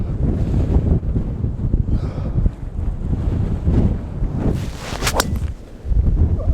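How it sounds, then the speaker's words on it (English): A strong gust of wind buffets the microphone on a golf course, a loud rumbling roar that swells and dips for several seconds, with no talk. "Oh, there's the gust."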